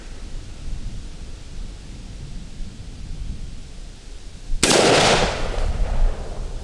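A Smith & Wesson M&P 15 Sport II AR-style rifle fires one sharp, loud shot outdoors during target shooting, with a short echoing tail after a quiet stretch of background ambience.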